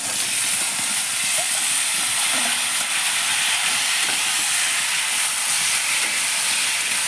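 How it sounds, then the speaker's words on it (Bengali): Boiled taro hitting a hot pan in a Bengali kitchen, giving off a continuous bright hiss and sizzle that holds steady and fairly soft throughout, with no talking over it. "এবার আমি সিদ্ধ করা কচুটা দিয়ে দিচ্ছি।"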